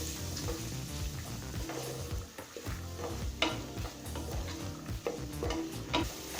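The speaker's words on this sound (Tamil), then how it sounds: "பட்டாணியை ஒரு 2 நிமிஷம் வரைக்கும் நல்லா வதக்கிடுங்க" Green peas sautéing and being stirred in a pan for paneer biryani, with a steady sizzle and repeated scraping stir strokes, close and continuous without talk.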